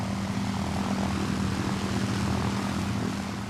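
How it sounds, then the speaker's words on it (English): Four Rolls-Royce Merlin engines of a heavy Lancaster bomber drone in steady unison, a loud, continuous propeller hum with a strong low throbbing tone and no pauses. "The sound of 4 Merlins"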